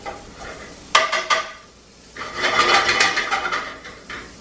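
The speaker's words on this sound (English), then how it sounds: "And hear it sizzling away." Guanciale fries in a pan, crackling and hissing in bursts, with a brief clatter of stirring, close and fairly loud with no talking.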